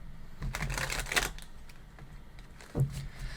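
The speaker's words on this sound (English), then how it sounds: "Let me get started with shuffling these cards" Tarot cards being shuffled by hand, a soft rapid riffling flutter in bursts that rises and fades, close and fairly quiet, with no talking over it.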